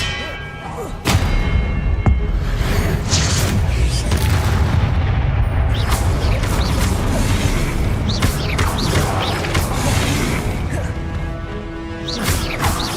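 A spell cast in the Hogwarts Legacy video game bursts out as loud, continuous booming impacts and metallic clangs, with dense combat effects filling the whole stretch after a short quieter opening.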